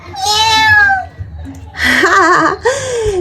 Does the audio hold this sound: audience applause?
no